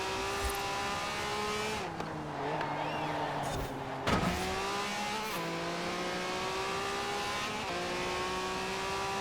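Can-Am Maverick side-by-side buggy in Forza Horizon 4 online racing, its engine droning steadily near at high speed with rising and falling pitch on gear shifts, alone throughout.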